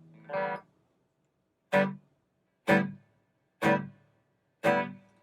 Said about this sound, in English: Tremolo works now.